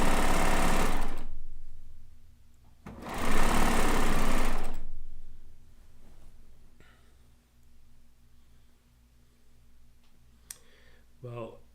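A home sewing machine stitches the final seam of a quilting piecework in two steady, loud whirring bursts, then goes quiet except for faint clicks and a low hum, with a voice speaking briefly near the end.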